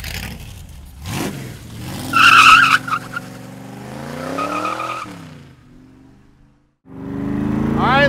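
A 1965 Shelby Cobra Factory Five replica revs and pulls away hard, its engine rising in pitch through the gears with a short tire squeal, loud and close, then fades and revs again.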